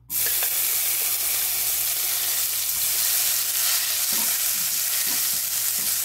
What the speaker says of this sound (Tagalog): Init na po yung kawali natin. Nilagay na po natin yung olive oil. So unahin po natin ang bawang.